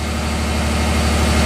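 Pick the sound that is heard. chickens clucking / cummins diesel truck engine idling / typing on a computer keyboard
cummins diesel truck engine idling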